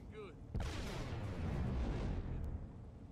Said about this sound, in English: There was what sounded like a goddamn explosion.